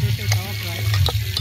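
One kilo of mutton with potatoes sizzles in a pot over a wood-fired stove in an Agri Koli village kitchen, a steady, close frying hiss with a voice faintly underneath.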